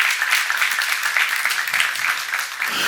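A church congregation at a seminar on Revelation applauds steadily for about three seconds, a dense wash of many hands clapping at moderate loudness with a faint murmur beneath.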